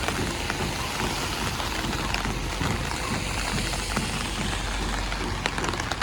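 Steady rain falls with a dense, continuous hiss of drops, even and unbroken throughout, in Zakopane with fog-shrouded mountains nearby.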